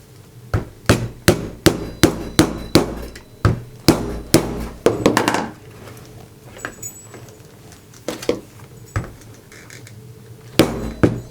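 A 2.5mm drive punch is hammered through leather for a belt, a run of sharp, evenly spaced close strikes, then a pause with faint handling and a few more hits near the end.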